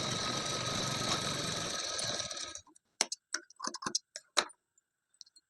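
Sewing machine stitching a blouse placket: a steady, continuous mechanical whir for about two and a half seconds, then it stops and leaves a few brief clicks and handling sounds, with no talking.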